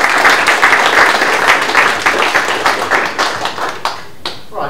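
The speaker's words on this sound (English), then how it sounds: "let's give a round of applause for that." An audience at a crypto regulation panel claps strongly, dense at first, then thinning into scattered individual claps that fade out near the end.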